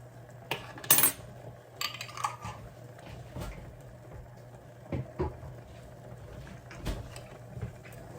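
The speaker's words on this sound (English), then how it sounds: "Give that a quick stir." A spoon scrapes and clinks against a container as homemade garlic pizza sauce with a small frozen chunk is given a quick stir, with sparse, close, moderately loud knocks.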